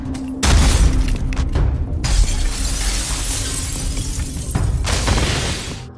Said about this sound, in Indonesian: Yongnam pun berusaha untuk memecahkan kaca tersebut